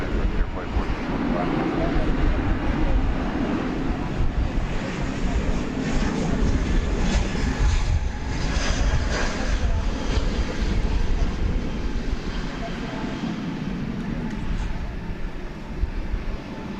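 Jet airliner taking off at night at DFW Airport, a steady broadband engine roar that holds loud and continuous throughout, with radio chatter faintly under it.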